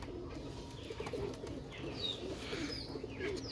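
Teddy pigeons coo steadily, a female Teddy 128 among them, in a low, rolling, repeated murmur. It is close and fairly loud, over a constant background hum, and a few faint higher chirps come through as well.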